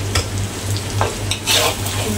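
Loud, close sizzling from a pan as instant noodles with shrimp, crispy bits and spring onion are tossed and stirred, with scraping bursts and a low steady hum underneath.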